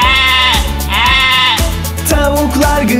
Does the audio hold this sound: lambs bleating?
yes